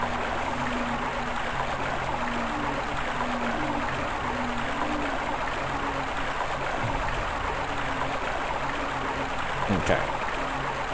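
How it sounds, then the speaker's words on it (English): Steady rushing flow of a water stream inside the video game Overblood, a continuous broadband wash with a faint low hum beneath it, holding level throughout with a brief louder blip near the end. "this water sound is gonna make me have to pee"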